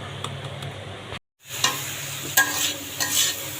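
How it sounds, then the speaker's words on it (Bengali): Leafy greens stir-frying in a pan, close sizzle with scraping stir strokes and a brief dropout midway, no talk. "দেখুন শাক ভাজিটা কিন্তু হয়ে গেছে।"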